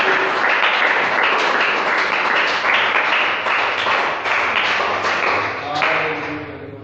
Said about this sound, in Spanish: aplauda el nombre de Jesús de Nazaret